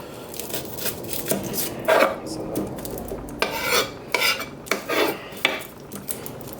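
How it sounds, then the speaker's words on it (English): A knife cutting peeled shallots into quarters on a board, a series of irregular close knocks and scraping cuts with brief pauses between strokes, no talking. "I'm just going to cut the shallots into quarters"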